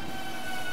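Train rolling along in the Roblox railway game Terminal Railways, a steady continuous rumble with sustained tonal hum, fairly loud and unbroken throughout the short stretch, with no talking.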